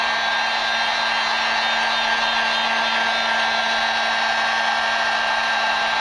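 A hair dryer runs continuously to dry a wet truck seat, giving a loud, steady whooshing blow with a constant motor whine and no pauses.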